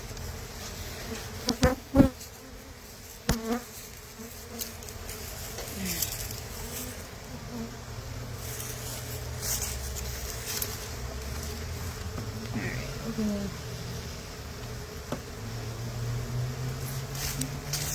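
Honey bees hum steadily around their hives, a dense, continuous buzz that fills the air close by, with a few louder knocks early on.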